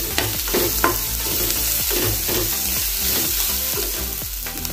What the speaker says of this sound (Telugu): కొంచెం వేగండి పచ్చి వాసన పోవాలి కొంచెం కరివేపాకు